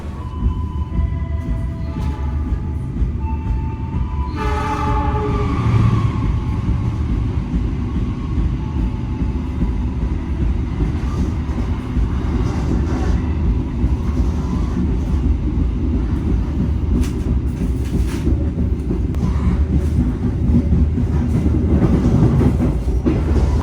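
An Indonesian passenger train, the KA Progo, rumbles steadily along the rails, with a continuous low roar and faint rhythmic clacking throughout, no voices.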